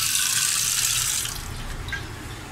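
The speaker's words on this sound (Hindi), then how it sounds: "थोड़ा पानी और ले लेते हैं" Water poured into a pot while cooking chana pulao: a steady splashing pour fills the first second, then tapers into a softer trickle and a few light drips, close and alone.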